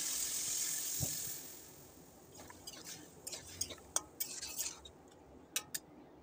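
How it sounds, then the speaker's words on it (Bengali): Water poured into a pan of frying vegetables sets off a brief burst of hissing sizzle, which fades into soft clinks and scrapes of a utensil against the pan. "জলটা দিয়ে দিচ্ছি।"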